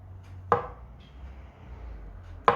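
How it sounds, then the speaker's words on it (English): Two sharp knife chops land on boiled eggs in a salad bowl with lettuce, each a crisp thud against the board, separated by a quiet pause. "we'll chop our eggs."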